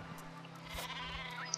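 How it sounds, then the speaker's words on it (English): A super sheep in the video game Worms Revolution lets out a short bleat over a steady low game hum, followed by a brief whooshing effect and a faint high chime, quiet overall. "I got a super sheep and I'm gonna learn how to use it"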